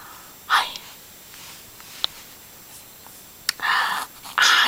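A baby sneezes, two or three short, soft bursts separated by quiet pauses, close by with no talking over them.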